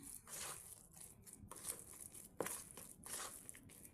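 Soft, irregular scraping and clicking of a utensil working through thick batter in a bowl, close up, with no voices.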